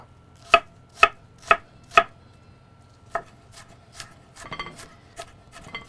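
Fresh onions are chopped with a knife on a board: four sharp, evenly spaced chops up close, then a looser run of lighter cuts and scraping, with no voices.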